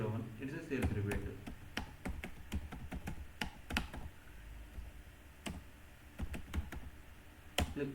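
Computer keyboard typing with sharp, irregular key clicks and a firmer press of the enter key, steady and fairly close, heard over a faint background hum with no talking.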